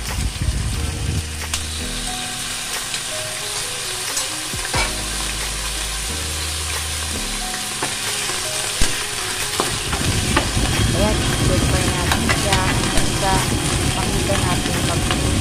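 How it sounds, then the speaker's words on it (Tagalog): Beef sautéing in hot oil in a wok-style pan for udon noodles, a loud steady sizzle that swells stronger later, with a low humming drone early on. "Tapos ilagay na natin yung beef. Igisa na natin."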